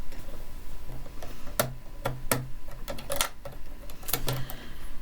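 A sewing machine stitching a quilt border runs in short bursts of rapid ticking and clacking, with pauses between runs and no voices.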